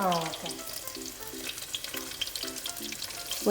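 Curry leaves dropped into hot oil sizzle and crackle steadily for a canned tuna fish curry, a close, continuous frying hiss with small pops and no talk.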